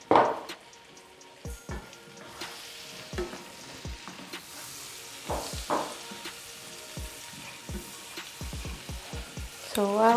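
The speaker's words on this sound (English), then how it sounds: "put in a little bit of onions just to release the flavor. Yes, please. Then give it a stir." Chopped onions fry in a pan with a steady sizzle as a utensil scrapes and stirs them in repeated sharp strokes, close and fairly loud, with brief clinks between strokes and no talking.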